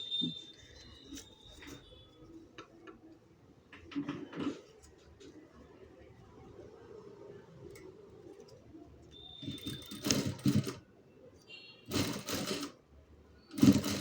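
Sewing machine stitching samosa lace onto a blouse runs in short mechanical bursts, clattering loudly in spurts between quieter pauses, close and without talk.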